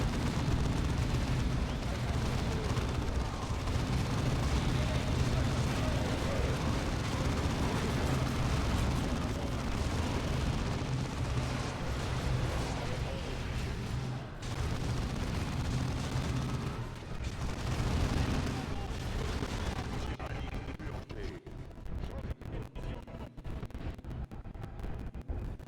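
Grenade explosions in the strategy game Dawn of War 2 rumble on in a dense, loud, sustained barrage of blasts and gunfire, thinning out toward the end.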